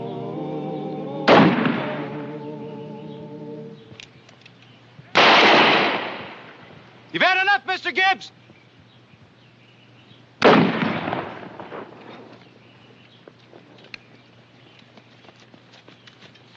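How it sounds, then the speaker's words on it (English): Sharp, loud gunshots from a shotgun and pistol ring out one by one in a Western shootout, some single blasts, one a quick rattling burst, with someone speaking briefly between them. "When I raise my gun, you start a firing."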